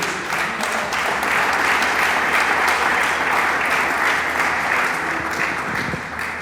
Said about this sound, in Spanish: dele palmas al Dios del cielo